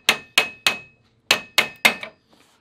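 Six sharp hammer strikes knock a tight wheel pin out of an Olympia Cart XL, in two quick groups of three with a short pause between, loud and close, followed by faint light taps.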